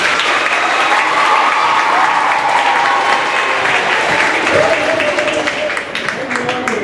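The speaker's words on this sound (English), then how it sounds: "let's give this group a nice round of applause" Loud, dense applause from a spelling bee audience clapping for a group of spellers, sustained steadily throughout and tapering slightly near the end, with a faint murmur of voices underneath.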